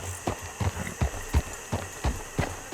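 A horse trots through Red Dead Redemption 2, its hooves striking the ground in a steady, even clip-clop rhythm of about three beats per second, faint and close.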